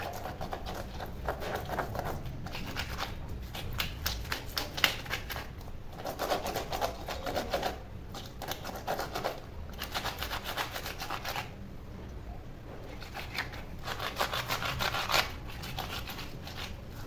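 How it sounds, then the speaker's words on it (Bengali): Rohu fish being scrubbed and washed by hand in a kitchen, giving repeated rubbing and splashing strokes in uneven bursts with short pauses, close and fairly quiet, with no talking. "মাছগুলো এখন ঘষে ধুবো"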